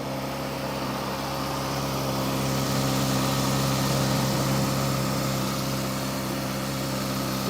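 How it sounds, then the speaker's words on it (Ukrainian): A Honda CB600F Hornet motorcycle engine idles steadily and quietly with a low, even hum, no voices present. "Моторчик працює тихо."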